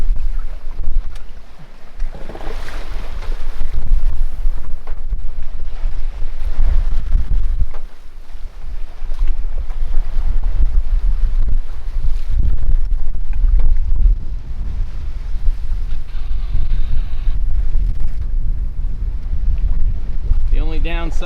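A 27-foot sailboat runs wing and wing downwind through good-sized ocean swells at about five knots, with heavy wind buffeting, rushing water and low rumbling throughout, and voices heard now and then.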